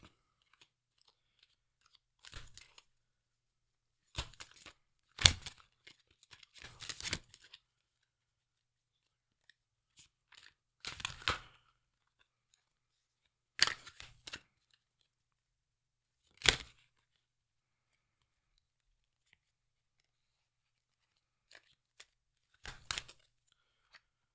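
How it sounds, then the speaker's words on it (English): Tarot cards riffle and snap in short, scattered bursts separated by quiet pauses, close and crisp, several shuffles over the stretch. "let's begin to shuffle the deck for your reading"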